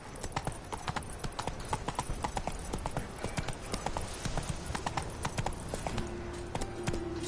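A horse's hooves clop in a quick, steady rhythm from start to finish in The Witcher 3 video game. The gait stays even and close, with a low hum of game ambience underneath and no talking.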